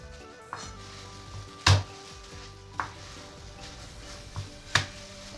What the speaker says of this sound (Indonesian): Geprek bawang putih.